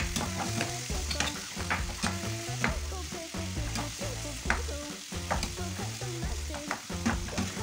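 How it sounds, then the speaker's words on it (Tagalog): Mixed seafood sizzles loudly in a hot pan while being stirred, the rhythmic scraping and clatter of the utensil repeating steadily over the constant frying hiss. "i-medium cook lang natin itong mixed seafood natin para hindi siya tumigas"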